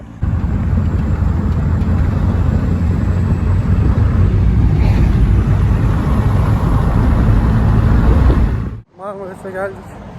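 A car on a roadside near Marmaris produces a loud, broad road rumble and rushing noise that holds steady for about nine seconds, then drops off abruptly.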